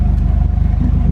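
Xavier's car drives past nearby, a loud low engine rumble with a steady pulsing throb that holds for about a second.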